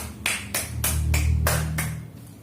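A class of students gives a short burst of applause for two discussion groups, with about six rhythmic clapping pulses in quick succession and a low hum beneath.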